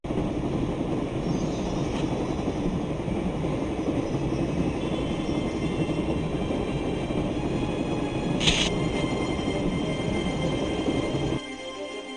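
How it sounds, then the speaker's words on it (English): Train from the Broken Sword: Shadow of the Templars adventure game, a continuous loud rumbling and clattering of rolling rail cars at night, with a brief sharp hiss partway through before the noise drops away near the end. "I'm going to climb on top of the train."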